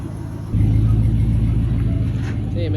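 A 1988 Chevy C1500 truck with an LS engine swap, after repair, pulls away, its engine rumble swelling suddenly into a loud, steady low drone, with a person talking over it.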